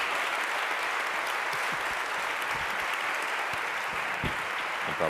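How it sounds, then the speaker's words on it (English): An audience applauds at a Harvard Climate Action Week event: steady, dense clapping from a sizable crowd that holds evenly throughout, with a few sharper individual claps standing out near the end. "But you all can clap now for them."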